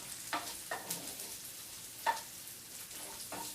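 Onions and garlic sauteing in a pan, cooking down for an eggplant Parmesan sauce, give a steady soft sizzle and crackle, broken by a few brief utensil scrapes and clicks from stirring. The sound is close and fairly quiet, with no talking.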